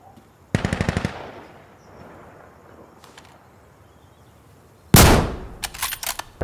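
Automatic weapon fire in the tactical shooter game Insurgency Sandstorm: a short rapid burst near the start, a faint distant shot around the middle, then a loud close volley followed by several sharp spaced shots.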